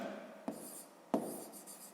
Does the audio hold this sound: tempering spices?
no